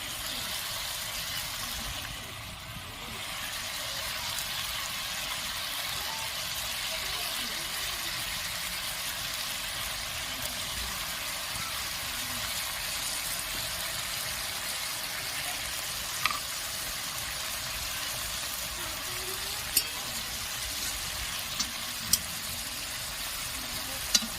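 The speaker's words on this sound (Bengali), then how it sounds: "এটা ফুটে গেছে, আমি ভেজে রাখা বেগুনগুলো একটা করে দিয়ে দেবো।" Eggplant curry (begun sundari) with fried eggplant pieces in a pan, a steady close hiss of bubbling and sizzling with a few faint clinks, continuous throughout with no talking.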